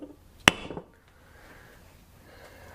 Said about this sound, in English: What we do need to do, though, is tap this with a hammer to give it some impact.